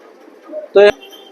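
Black checker pigeons, a breeding pair, give a single short coo about a second long, close and fairly loud over a quiet background.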